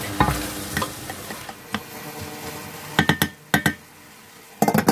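Chicken pieces cooking in a pot for macaroni soup, a soft steady sizzle with clinks and scrapes of a utensil against the pot, bursts of stirring clatter near the end.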